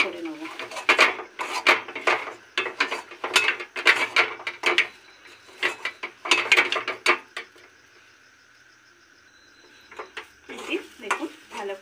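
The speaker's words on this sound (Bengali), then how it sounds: "ছাতুটা দিয়ে আমি ভালো করে মিক্স করে নেব।" Green pea kochuri filling being stirred with sattu in a pan, a run of scraping, rhythmic stirring strokes with a light sizzle, close and fairly loud, easing to quieter frying near the end.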